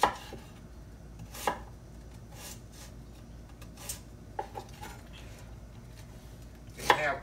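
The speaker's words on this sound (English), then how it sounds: "I'm gonna cut these fairly big here, y'all, because they're gonna cook a long time" Knife chopping cabbage into fairly large pieces for slow-cooked pork bones and cabbage, heard as a handful of sharp, separate cuts on a board at an uneven pace, fairly close, over a quiet kitchen background.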